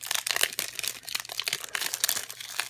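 A trading card booster pack wrapper being torn open by hand, with close, crisp crinkling and crackling of foil plastic that continues steadily throughout.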